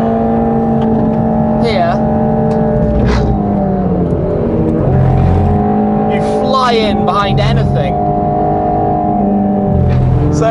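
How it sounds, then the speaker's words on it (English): Mercedes-AMG GT Black Series lapping a US Formula 1 circuit amid other race cars, engine droning loud and steady with shifts in pitch as cars pass close, someone talking over it throughout. "So many different types of car on track at once"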